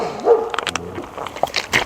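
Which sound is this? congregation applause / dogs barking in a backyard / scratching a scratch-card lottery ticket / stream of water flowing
dogs barking in a backyard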